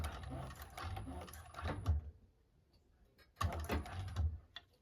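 A sewing machine stitches a bag seam at a long stitch length in two short, quiet bursts of steady whirring separated by a pause of about a second and a half.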